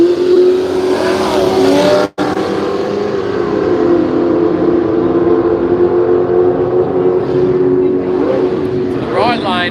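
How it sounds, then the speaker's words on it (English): A supercharged Ford crossflow six-cylinder drag racing car at a radial drag meet roars with a sustained, loud engine tone, its steady droning harmonics rising near the end, with crowd or commentary chatter mixed under it. "250 bloody crossflow blowing. The big supercharger on it."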